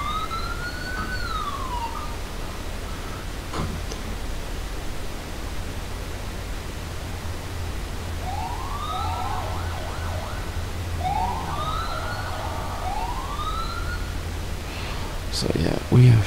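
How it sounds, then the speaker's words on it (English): Sirens on an unmarked Irish police patrol car being tested: a short rising-and-falling wail, a long lull of steady engine and road hum, then several more wailing sweeps, ending in a few sharp clicks. "test this lights and sirens"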